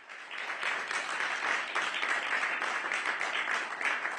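Applause rises as the culture ministers of France and Benin sign an act restoring artworks, with Emmanuel Macron and Patrice Talon clapping in an official ceremony; the steady, dense clapping fades in and holds moderately loud.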